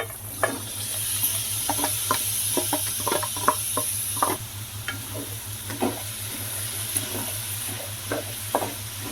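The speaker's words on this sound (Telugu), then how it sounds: "ఇప్పుడు పొట్లకాయ ముక్కలు అయితే యాడ్ చేసుకుంటున్నాను" Ridge gourd pieces drop into hot frying oil and get stirred, with a steady bright sizzle and repeated scraping, clattering stir strokes up close, plus a low electric hum underneath.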